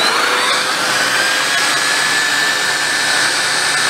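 Black & Decker BDASV104 vacuum running steadily with the hose attachment fitted, a loud, close, continuous whine and rush of suction with no other sounds.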